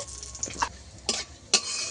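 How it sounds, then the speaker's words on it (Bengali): Bay leaf, garam masala and cumin sizzle in hot oil in a pan, with a steady low fry and a few sharp stirring scrapes bursting out near and clear. "ফোড়নটা ভালো করে ভাজা করে নেব"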